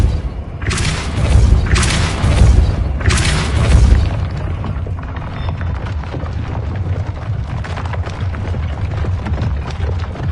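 Depulso force spell blasts in Hogwarts Legacy, three loud booming bursts in the first few seconds followed by a lower rumbling game soundscape.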